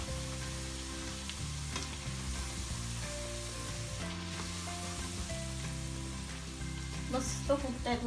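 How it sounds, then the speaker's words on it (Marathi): Kombdi vade, puffed Marathi fried breads, sizzle steadily in hot oil, a close, continuous crackling fry under background music with steady tones throughout and a brighter burst of bubbling near the end. "चांगले डान्स करतायत तेलामध्ये।"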